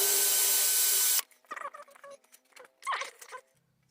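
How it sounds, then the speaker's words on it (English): Power drill boring into the base of a steel scissor jack for M6 bolts, a steady loud whine for about a second, then scattered clatters and handling noises. "I'm drilling these for M6 bolts."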